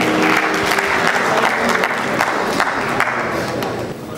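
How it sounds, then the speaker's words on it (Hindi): Audience applause fills a Sufi mushaira poetry gathering at the Lahore Sufi Festival, a dense, steady wash of many hands clapping close by, tapering slightly at the end. "आप सबकी भरपूर तालियाँ हमरा रहेंगी तो मुशायरा बहुत जानदार होगा"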